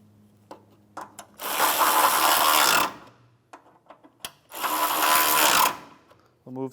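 A ratchet tightens 12mm radiator support bolts on a 2011-2016 Hyundai Elantra in two loud, rapid clicking bursts of a couple of seconds each, close up, separated by quieter taps and handling noises.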